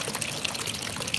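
Natural mineral water runs steadily from an ornate lion-head fixture at a retro Tokyo onsen bath house, making a continuous close trickle and splash with no talk over it.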